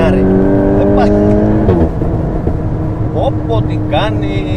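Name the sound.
VW Golf 8 GTI Clubsport wheelspin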